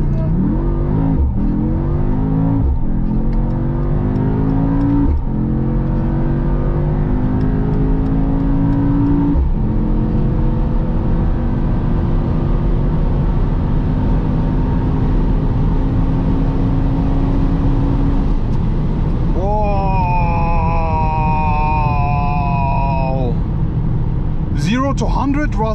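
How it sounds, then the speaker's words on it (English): A 843 hp Mercedes-AMG GT63 S E Performance launches from a race start on the autobahn, its engine note climbing through repeated gear changes, heard loud from inside the cabin, with a higher whining tone near the end. "I will be doing a drag race with a race start"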